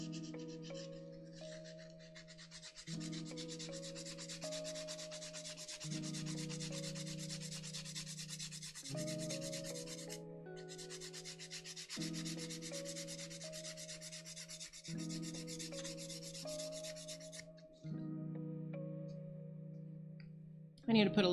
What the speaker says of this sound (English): And I think this side needs some sanding too.